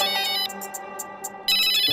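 An incoming call sets off a mobile phone ringtone in a TV drama scene, a loud electronic melody of short repeating tones that runs throughout without speech.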